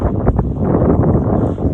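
Strong wind gusts buffet the microphone at Lake Livingston, a rough low rumbling roar that stays loud and close throughout with slight surges, no speech.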